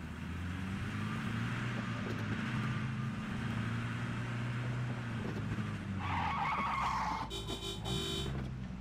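A car in the video game PUBG drives with a steady engine drone, then its tires squeal and skid sharply near the end, loud and close, with no speech.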